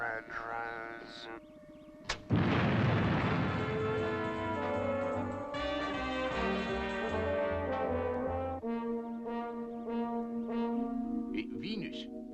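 The Fireball XL5 spacecraft fires its retro rockets on entering Earth's atmosphere: after a short quiet stretch a loud roaring blast bursts in and holds with a tonal hum, then eases back beneath faint voices.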